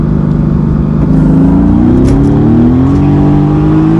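A supercar switched into race mode accelerates hard, its loud engine note rising steadily in pitch through the gear, heard close from inside the car.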